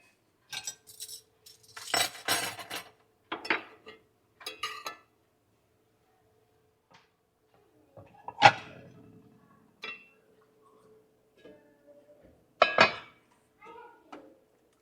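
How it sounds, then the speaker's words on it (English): A knife slices through a pan of cornbread, giving scattered metallic scrapes and clinks against the pan in irregular bursts separated by quiet gaps. "I'm gonna slice this pan of cornbread up"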